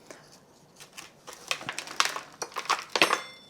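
Scraping and clicking sounds come from loosening a monstera's roots around the edge of its pot, a quick irregular run of dry scratches and taps that grows busier and louder toward the end.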